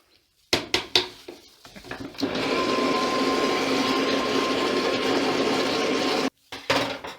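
A kitchen blender: a loud, steady motorized whir runs for several seconds after a few short clattering knocks, then cuts off abruptly, followed by more brief clunks.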